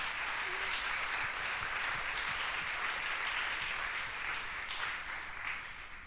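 Audience at a university conference on the ecological transition applauding, a sustained, even roar of many people clapping, fairly distant and soft, tapering slightly at the end.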